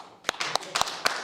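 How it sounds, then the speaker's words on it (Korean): Sparse claps from a church audience welcoming a speaker: a few distinct, separated hand claps in an irregular rhythm, moderately close, with no sustained applause building. "우리 박수로 한번"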